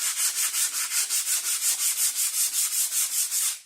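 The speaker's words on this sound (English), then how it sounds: "this one quite likes to be sanded" Sandpaper rubs back and forth over filler on a wooden window in steady, even strokes, about five per second, loud and close with no voices, until it stops abruptly.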